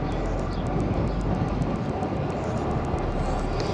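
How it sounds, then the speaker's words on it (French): Strong wind buffeting a cyclist's microphone on a country road among vineyards, a constant loud roar that fills the whole clip without pause. "Pas mal de vent."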